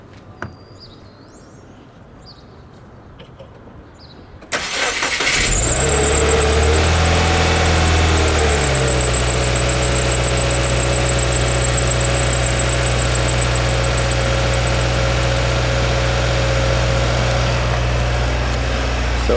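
A 2015 Subaru WRX, Stage 1 tuned, cold-starts with a sudden loud crank and catch, then settles into a steady, fairly close idle with a high whine from a pulley running over the engine drone.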